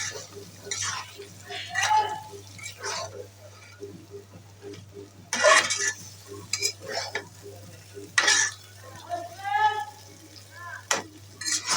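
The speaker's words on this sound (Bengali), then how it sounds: "এবার আমি ভালো করে নেড়ে চেড়ে নিব" A spoon stirs and scrapes spice masala in a pan, cooking it for beef liver and tripe, with repeated stirring strokes and a light sizzle in the background.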